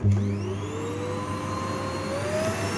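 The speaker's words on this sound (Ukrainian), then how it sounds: "Беремо пилосос, пилосос 1800 Вт. Вмикаємо пилосос." An 1800 W household vacuum cleaner switches on and runs steadily, a loud close motor whine with a rising pitch as it spins up, then a constant drone with no talking.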